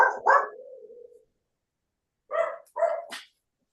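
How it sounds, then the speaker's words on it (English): A dog barks twice close by, then after a short pause gives two or three more quick barks and a yelp. "Hey, Martha, your cats are barking."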